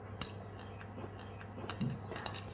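Spoon clinking and scraping against a saucepan while stirring melted chocolate, butter and sugar, a few irregular light taps and scrapes over a low steady hum.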